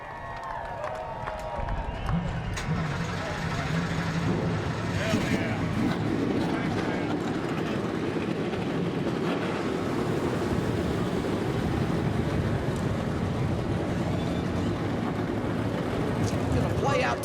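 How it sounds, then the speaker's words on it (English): After a brief lull, a dense roar of many NASCAR race car engines starting swells up and holds steady and loud, with voices faintly underneath. "Drivers, start your engines."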